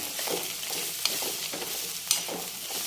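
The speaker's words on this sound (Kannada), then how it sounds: "ಈಗೆಲ್ಲ ನೀಟಾಗಿ ಮಿಕ್ಸ್ ಮಾಡ್ಕೋಬೇಕಾಗುತ್ತೆ." Masala with sambar powder being stirred and fried in a pan, a steady close sizzle with scraping strokes and two sharp utensil clicks against the pan.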